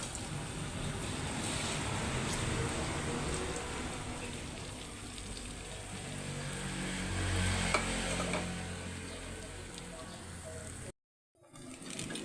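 Beaten eggs with a little salt cook in a hot pan, a steady close sizzle that is stirred now and then. Near the end the sound cuts out briefly, then returns.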